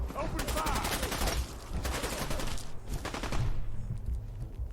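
Automatic weapon fire in the video game Fallout 4, set in the Nuka World area, comes in dense repeated bursts with short pauses, loud and close, mixed with other game sounds.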